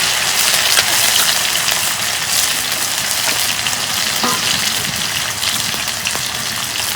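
Onion, garlic and ginger paste fries in hot oil for a chicken curry, making a dense, continuous close sizzle with faint clicks and no speech.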